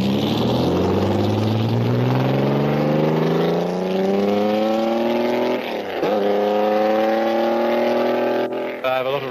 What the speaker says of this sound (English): John Watson test drives a 250F